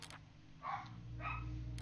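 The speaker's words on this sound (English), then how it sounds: "my dog is of course barking for whatever reason in the background" A dog barks a couple of times in the background of a room, the barks soft and muffled over a steady low hum.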